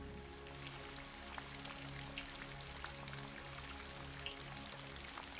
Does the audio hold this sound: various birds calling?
no